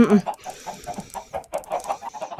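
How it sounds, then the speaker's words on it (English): Chickens in Minecraft clucking in short repeated bursts, a rapid string of close, fairly loud clucks with a brief louder squawk at the start. "These chickens, y'all. They laid all these eggs."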